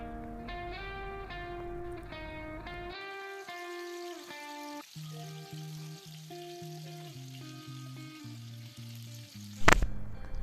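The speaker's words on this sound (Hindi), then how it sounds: "अब ये कोफ्ते रखेंगे और बिल्कुल हल्की आंच पर पकाएंगे ताकि ये अंदर से कच्चे ना रह जाएं" Kofta balls fry in hot oil over a low flame, giving a soft steady sizzle beneath loud background music, with a sharp clatter near the end.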